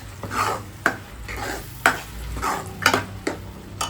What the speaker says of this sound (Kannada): ಇದು ಎಣ್ಣೆಲಿ ಸ್ವಲ್ಪ ಚೆನ್ನಾಗಿ ಫ್ರೈ ಆಗಬೇಕು.